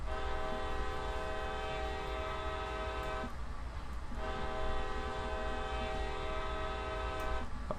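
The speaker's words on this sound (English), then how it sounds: "We're gonna give 2 blasts of the horn." Train horn sounded in the Train Sim World video game, giving two sustained tonal blasts separated by a short gap, loud and close over a continuous rumbling engine.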